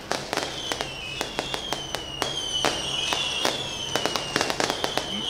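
Fireworks and firecrackers pop and crack in quick, irregular bursts at a street event marking a religious leader's release, with a sharp, high whistling streak running through the sharp reports.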